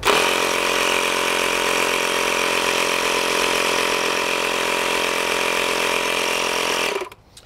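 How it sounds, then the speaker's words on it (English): A LiPo battery-powered pump inflates a 2-inch tube with a loud, steady motorized whine and buzz close up, running for about seven seconds before it cuts off abruptly. "See how quickly this inflates a 2-inch tube."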